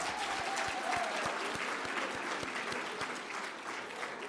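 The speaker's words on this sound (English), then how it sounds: "Can we give all the teachers a huge round of applause?" An audience at a programme relaunch event gives teachers a sustained round of applause, dense steady clapping filling the room from start to finish with faint voices beneath.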